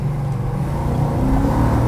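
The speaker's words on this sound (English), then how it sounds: "that car just downshifted from second back down to first as soon as I hit that accelerator pedal" A 1968 Dodge Charger R/T 440 Six Pack engine revs and roars steadily under acceleration, downshifting, loud and close, with a heavy low growl throughout.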